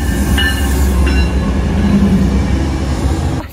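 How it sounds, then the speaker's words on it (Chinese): A train at Flagstaff station in Arizona on a cold early morning rumbles loudly and steadily, with a couple of brief high tones near the start and no talk. "然后现在大家在这排队看火车。"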